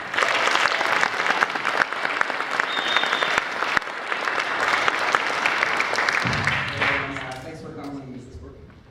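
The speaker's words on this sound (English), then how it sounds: "So please give a round of applause for Gabe Glover" An audience at a 2016 Butler jazz camp concert applauds the musicians with sustained, dense clapping, which fades near the end as a voice begins speaking over it.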